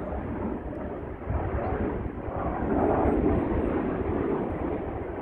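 A plane passes overhead outdoors with a loud, continuous low engine rumble that swells toward the middle and stays steady, with light wind noise and no speech.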